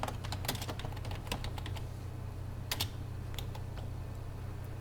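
Rapid keystrokes on a computer keyboard while writing a letter in Microsoft Word, bursts of close clicks with brief pauses, over a steady low electrical hum.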